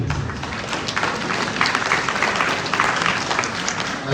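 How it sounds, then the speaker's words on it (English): Audience applause at a bar association gathering honouring a legal council chairman, a dense steady patter of clapping hands lasting a few seconds at moderate distance, with no voices over it. "Let's applaud him."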